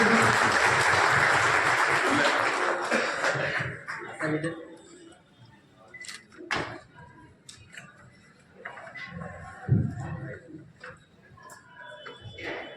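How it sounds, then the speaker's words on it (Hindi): An audience at a Lions Club justice honour ceremony in Sujangarh applauds loudly to welcome two advocates. The clapping swells for a few seconds, then fades into scattered claps, clicks and murmured voices. "एक बार जोरदार तालियों से इनका स्वागत"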